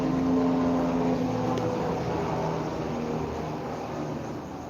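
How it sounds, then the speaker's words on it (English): A helicopter passes overhead, a steady droning engine and rotor rumble that slowly fades as it moves away. "Hear the helicopter going over."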